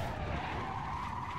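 Tires skidding in a car racing video game, one steady, continuous screech held at a moderate level for the whole moment, with no speech over it.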